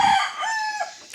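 A chicken gives a short cluck followed by a drawn-out crow, close and clear, with no talking.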